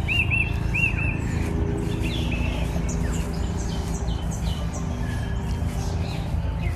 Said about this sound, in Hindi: ये देखो चिड़ियों की आवाज आ रही होगी।